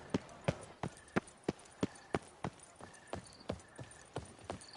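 Horse hooves clip-clop in a video game, a steady run of sharp, evenly spaced hoof strikes at moderate loudness, with faint game sounds in between.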